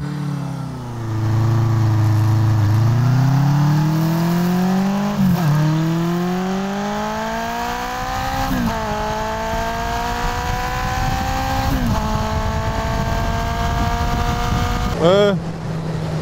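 Honda CB550 Four 1970s motorcycle accelerating from a standstill to 100 km/h, its four-cylinder engine revving up through several gear changes with rising, falling pitch sweeps, loud and close, ending in a sharp rev.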